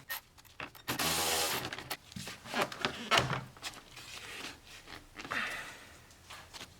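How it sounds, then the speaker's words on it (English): Rubbing and scraping as a 7mm hose clamp on the air box of a first-generation Chevrolet Cruze is undone, with a louder rasp near the start and then intermittent creaks and clicks. "Then we're going to undo this 7mm clamp here."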